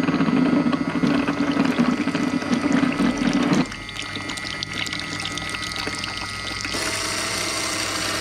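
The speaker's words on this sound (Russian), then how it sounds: "Система промывки работает отлично, но льется со всех щелей." Water washing system on a cleaning rig test, pouring steadily and leaking from every gap, a loud continuous splashing gush that drops off partway through to a softer flow, then rises again near the end.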